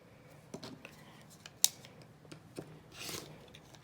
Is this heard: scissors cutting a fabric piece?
yes